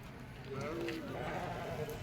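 Sheep bleating at a village livestock market in Sangli, a couple of short nearby bleats mixed into the crowd murmur while people talk close by.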